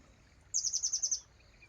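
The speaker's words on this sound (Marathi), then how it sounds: "संध्याकाळच्या वेळेस पण पक्ष्यांचा गोंगाट होतोच" Small birds chirp in a quick rhythmic burst of about eight high calls, heading to roost at dusk over a village vineyard, with faint calls trailing after in a quiet evening.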